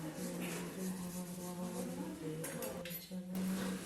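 Metal puja utensils washed at a sink, with light clinks and scrapes of dishes against each other over steady water noise, close and continuous.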